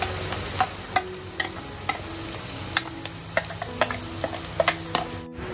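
Chopped onion fries in a pan on a wood-fired chulha stove in Kokan, with a steady sizzle under repeated sharp scrapes and taps of a stirring spoon against the pan.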